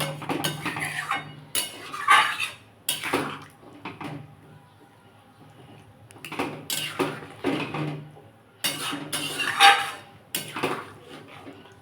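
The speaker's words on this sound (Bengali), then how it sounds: "ভালো করে নাড়িয়ে দিলাম" Boiled-down potatoes are stirred in a cooking pot with a little water, and a spoon scrapes and clinks against the metal. Irregular bursts of clatter come in groups separated by quiet pauses, close and moderately loud.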